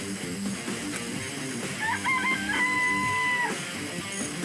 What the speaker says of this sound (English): What about the chickens, though?